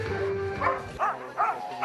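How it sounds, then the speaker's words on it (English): Sled dogs bark in short, repeated yelps at the start of a race in a snowy setting, sounding close and fairly loud. "her dogs vanish into the white landscape"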